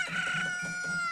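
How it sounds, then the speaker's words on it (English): A rooster crows at dawn in the Majora's Mask video game, one sustained, bright, harmonic call heard close and clear with no talk over it. "Cock-a-doodle-doo."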